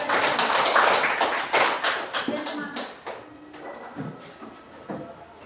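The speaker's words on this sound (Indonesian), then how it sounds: "Tepuk tangan dulu untuk mereka dong" A classroom of students claps together in a brisk burst of applause that fades over a few seconds, close and lively, with a teacher's voice heard among the claps.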